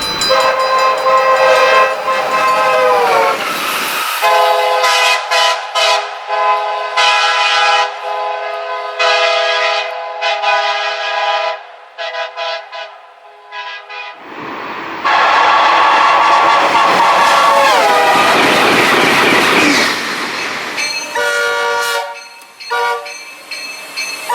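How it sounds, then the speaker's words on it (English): An Amtrak Acela train sounds its Nathan K5LA air horn in loud, multi-tone blasts, first in short bursts and then in long sustained chords, with brief gaps of quiet between them. "The Acela comes equipped with a Nathan K5LA or K5LA hybrid air horn."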